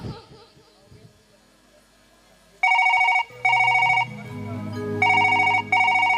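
A telephone rings in repeated electronic bursts, loud and close, with a low hum of background sound underneath between rings.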